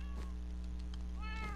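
Meows from a cat in a survival video game, set on a carpet during a picnic scene: a couple of short, clear calls near the start and end over a steady electronic hum, with no talking.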